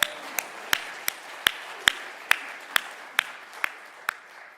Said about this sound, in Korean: 우리 모두를 위해 하나님께 영광의 박수 올려드립니다.